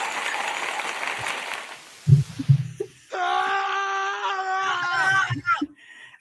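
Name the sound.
screaming sound effect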